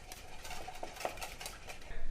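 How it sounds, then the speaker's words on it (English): A whisk beats vanilla extract into wet batter ingredients for a cherry and blueberry buckle, giving quick, light metallic clinks and scrapes against a bowl in a steady rhythm, close and moderately quiet. "And then we give this a whisk."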